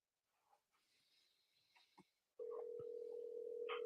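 Smartphone app placing a call: after faint background rustle, a steady, continuous ringback tone starts abruptly and holds loud and unbroken to the end.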